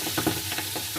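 Salted, vinegar-rubbed pork belly spatters and crackles as it drops into hot oil in a wok, a dense, steady sizzle with a few sharper pops, close and fairly loud, no voices.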